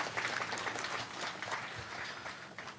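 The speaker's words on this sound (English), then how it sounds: "can we have a round of applause for all the awardees?" Audience applause for awardees at an Independence Day ceremony in Shillong, a steady, fairly quiet wash of clapping from a seated crowd heard at a distance.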